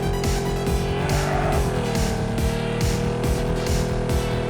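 In the Ace Racer video game, a race car drifts with a loud, sustained engine whine that rises and falls with revs, joined by repeated tire squeal and skidding bursts and no talk.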